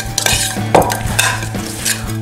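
A spoon mixing pepper and herb-flavoured fleur de sel in a small dish, giving a run of short clinking scrapes against ceramic, fairly close and clear, with a steady kitchen hum underneath.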